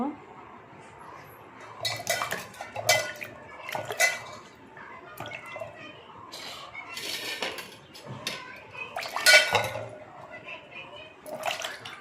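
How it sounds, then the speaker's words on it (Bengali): Lemons are washed in a kitchen with water splashing and clinking against metal dishes or a pot, producing irregular bursts of clatter, while someone talks. "চলো এখন ভালো করে ধুয়ে নিব"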